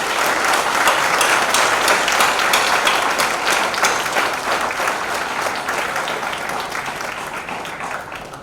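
Audience applause at an event launching teaching modules on menstrual health, a dense, sustained clapping across the whole stretch that eases slightly toward the end.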